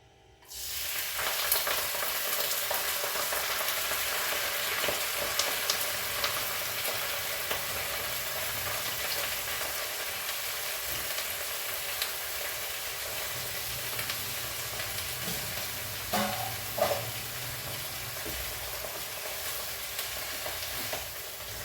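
Amaranth leaves hit hot oil in a pan, a loud steady sizzle and fry that carries on throughout, with brief stirring scrapes partway.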